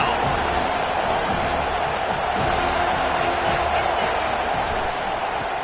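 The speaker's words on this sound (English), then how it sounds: "Here comes this home crowd as the defense tries to get off the field on 3rd down." Home crowd roaring at a football game on third down, a dense, constant wall of cheering and noise filling the stadium, with talk running over it.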